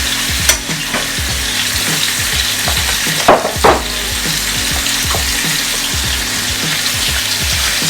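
Beef short ribs browning in a hot pan, a loud, close, continuous sizzle with occasional sharper spits and the scrape of pieces being moved about.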